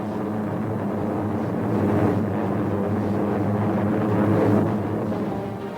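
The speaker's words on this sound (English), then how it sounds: "And carrier planes fill the skies overhead." Propeller planes of a 1945 navy carrier fleet pass overhead in a steady, loud droning roar that swells slightly around the middle and fades toward the end, with no talking.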